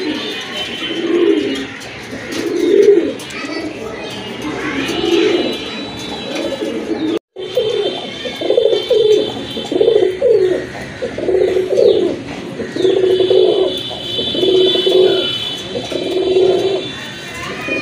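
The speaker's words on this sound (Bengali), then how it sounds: "আরেক জোড়া গড়া কবুতর" A pair of Gola pigeons coos in steady repeated phrases, close and fairly loud, with a brief break partway through and faint chirps in the background.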